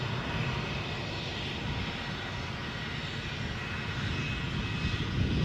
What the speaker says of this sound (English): sure enough, A319 off to Heathrow